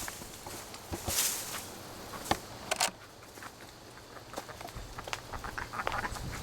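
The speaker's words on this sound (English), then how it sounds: "Those ducks are gonna get you." Scattered duck quacks outdoors, a few bursts among rustling and footsteps, moderately close with quieter gaps between.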